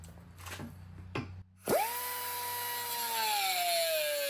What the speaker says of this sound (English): I'm going to cut it on the flat part here